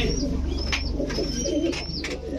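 Soft, repeated pigeon coos murmur in a low rhythmic pattern, with a few faint chirps and a constant low hum underneath.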